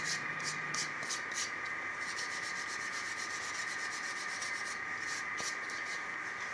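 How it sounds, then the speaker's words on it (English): Wooden furniture is denibbed by hand with sandpaper or a Scotch-Brite type pad, giving a faint, steady rubbing hiss with quick rhythmic scratchy strokes close by. "You can just denib across to make smooth."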